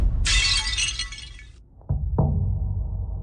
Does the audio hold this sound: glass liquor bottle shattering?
yes